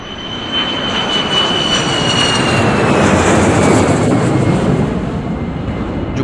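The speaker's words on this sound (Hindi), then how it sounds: "वहाँ पे जो जेट्स, फाइटर जेट्स उड़ते थे दिन में 3-4 दफ़ा" A fighter jet from an air base near Bhuj roars overhead in a broad, steady rushing drone that swells and fades slightly across the whole stretch, loud and unbroken.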